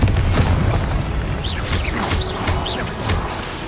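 Confringo explosion spell cast in the video game Hogwarts Legacy: booming blasts and whooshes layered with bright, swooping magical tones, several loud hits in quick succession over constant game noise.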